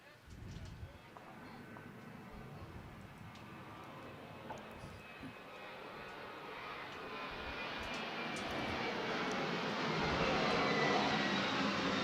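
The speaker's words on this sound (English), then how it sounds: "Those planes are actually taking off now" Airplane engines roar steadily at takeoff close by, the broad rumble growing louder and fuller over about twelve seconds, with faint talk underneath.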